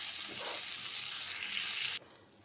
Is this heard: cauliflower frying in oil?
yes